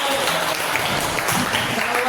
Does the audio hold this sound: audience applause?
yes